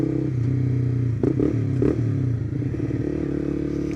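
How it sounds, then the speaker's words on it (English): A Honda CBR250R motorcycle fitted with a Delkevic exhaust pipe idles steadily nearby on a college campus, a low droning rumble with a couple of brief blips and some clatter. "So of course you can hear the exhaust."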